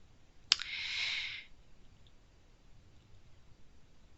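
A single sharp computer mouse click in a quiet room, followed by a brief soft hiss, then near silence.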